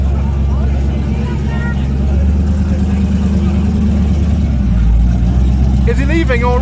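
A loud, rumbling classic American car engine idles and then pulls away at a car show, its low roar swelling steadily, with voices talking over it.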